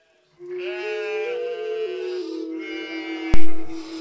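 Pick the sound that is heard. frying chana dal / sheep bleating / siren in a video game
sheep bleating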